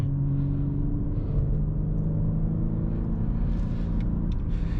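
A 2023 BMW M3 Competition engine gearing down on an open road, a steady loud low rumble with shifting engine tones heard from inside the car.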